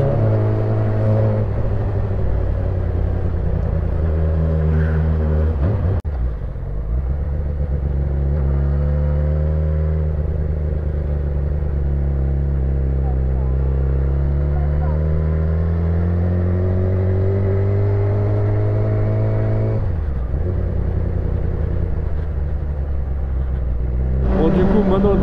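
A Yamaha R6 sport motorcycle engine revs loudly and close, its pitch climbing and falling in long sweeps with brief drops between pulls, while voices talk over it.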